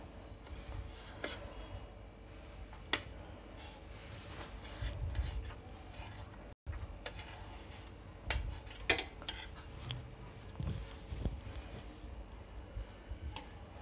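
A knife working through a soft sponge cake on a plate or board, with faint scattered taps and scrapes of utensils against dishes, quiet and close.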